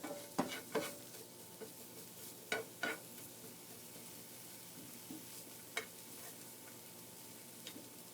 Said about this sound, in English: So I'm just trying to brown up everything in the pan.